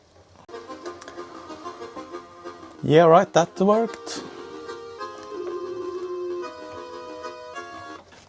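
A Commodore 1541 floppy disk drive loading a game at original speed gives steady, faint mechanical ticking under a soft tonal hum, with someone briefly talking partway through.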